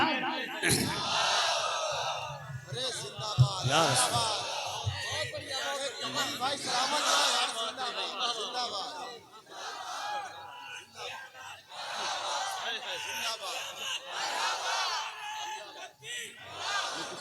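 A large crowd at a stage gathering shouts the Nara-e-Takbir slogan in loud, surging waves of massed voices, with swells and brief dips across the stretch, close and full.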